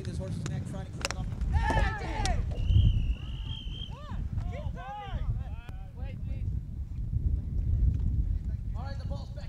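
Polo ponies in a semi-final match thunder across the field, a continuous rumble of hoofbeats with squeaks and whistles over it, while a commentator talks throughout.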